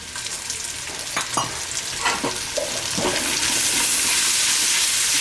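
Onion with crushed ginger and garlic sautéing in a pan over a wood-fired stove for beef curry, a steady close sizzle broken by a few scraping stirs, the frying hiss swelling and filling in toward the end.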